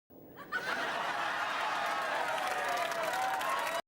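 A live studio audience at a Red Dwarf recording bursts into sustained cheering and laughter mixed with clapping, a dense, steady crowd roar that holds at an even level after a sudden start.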